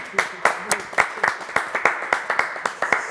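A studio audience claps for an Afropop singer, crisp separate handclaps falling in a fairly regular, rhythmic beat, close and clear.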